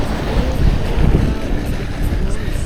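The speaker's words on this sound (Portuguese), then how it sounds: "ouça só o barulho das ondas, o vento acariciando sua pele" Ocean waves breaking on a beach at Ponta das Canas in Florianópolis, with gusting wind buffeting the microphone, a loud, continuous roaring wash with a heavy low rumble.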